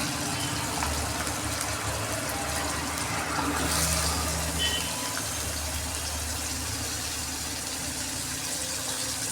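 Cut pumpkin and potato pieces fry in a pan with a steady, moderately quiet sizzling hiss that continues evenly throughout with no talking.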